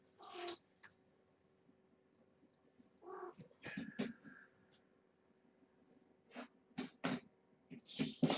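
Kittens meow in a few brief, faint calls spread through a mostly quiet indoor stretch, with small thumps and rustles between them.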